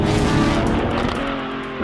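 A Lamborghini Aventador SVJ supercar is driven hard through a corner, its engine a loud, dense roar with a faint tyre squeal, heard from close by for a couple of seconds with no talking.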